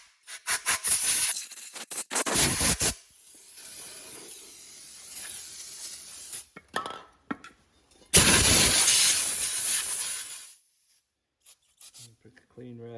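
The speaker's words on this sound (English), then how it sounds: "A little compressed air in here." Compressed air blasting into the engine of a John Deere D100 lawn mower that won't turn over, two loud hissing bursts near the start and a longer strong blast midway, separated by quieter rustling and scraping.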